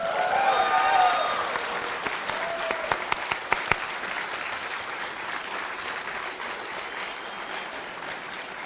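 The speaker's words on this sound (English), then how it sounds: "Everybody start clapping really loud." Conference audience at a 2007 security convention clapping loudly, a dense burst of applause with a few sharp individual claps and brief cheering early, gradually tapering off over about eight seconds.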